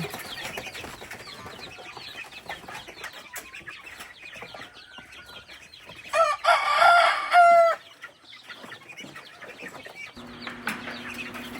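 Chickens on a farm cluck and chatter at feeding time in a busy, continuous flock noise, with a loud rooster crow bursting out near the middle and a steady low hum entering toward the end.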